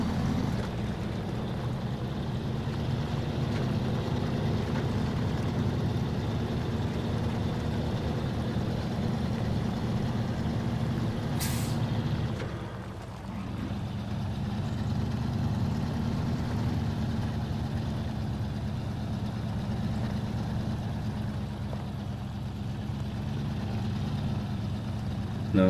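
A truck engine rumbles steadily in the off-road driving game SnowRunner, cruising in third gear. The low drone is close and continuous, dipping briefly midway before resuming at the same level.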